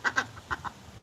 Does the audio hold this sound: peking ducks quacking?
yes